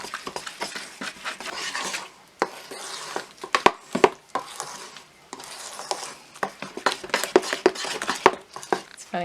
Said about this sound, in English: And we're going to mix that all together.